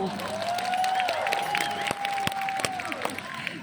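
Audience clapping and cheering at a Thai comedy stage show as dancers are introduced, a fairly steady crowd wash with sharp individual claps and a sustained tonal sound running through it.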